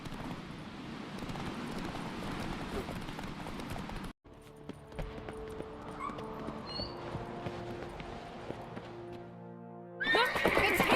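Horses in The Witcher video game whinny and clatter along at a gallop with clip-clop hoofbeats, a brief cut near the middle, then a sharper, louder neigh bursts in at the end.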